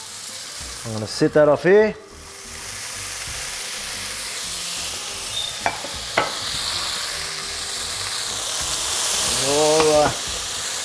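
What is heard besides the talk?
steak searing in a hot pan for tacos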